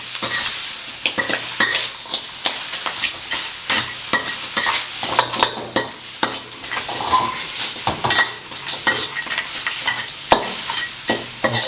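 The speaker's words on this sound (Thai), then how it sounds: "ผัดไปแรงนะครับ เมนูนี้ย้ำจะได้หอมๆ" Flower crab stir-fried hard with curry powder and vegetables in a hot wok, a dense continuous sizzle broken by rapid clattering scrapes and tosses, loud and close with no voices.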